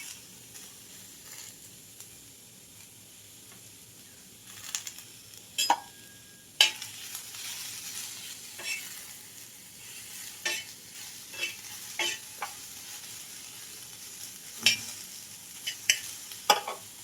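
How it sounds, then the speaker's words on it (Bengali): Onions dry-roast in a pan with no oil, giving a soft, quiet crackle while a spatula scrapes and stirs them in irregular, close knocks. "এবার এই পেঁয়াজগুলোকে শুকনো খোলায় একটু ভেজে নিই"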